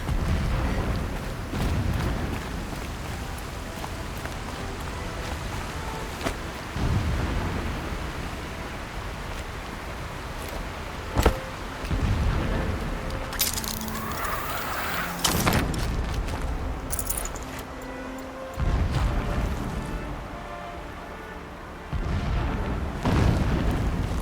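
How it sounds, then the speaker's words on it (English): Distant explosions in the Horizon Zero Dawn video game: several deep, muffled booms rumble across a hissing, windy game soundscape, with sharper crackling bursts around the middle. "Explosions in the distance."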